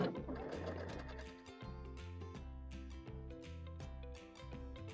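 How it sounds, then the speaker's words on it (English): A sewing machine stitches diagonally corner to corner across a butterfly zipper pouch, a close, steady mechanical whir with rapid rhythmic needle thumps and one brief pause partway through. "Place my guide beam going from corner to corner and begin to stitch."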